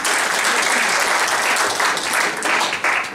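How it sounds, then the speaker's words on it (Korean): Dense, loud applause from the audience at a Daegu citizens' forum on the southern region new airport, a continuous roar of many hands clapping together without a break. "다시 한번 큰 박수 부탁드리겠습니다"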